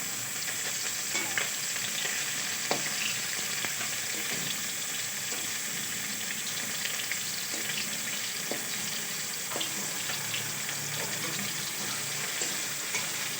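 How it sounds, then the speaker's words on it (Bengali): Fish fries in hot oil in a pan with a close, continuous sizzle and crackle throughout, broken by small pops and spits, and no one talks over it. "দেখো আমার মাছ ভাজা হচ্ছে।"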